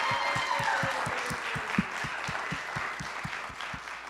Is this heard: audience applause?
yes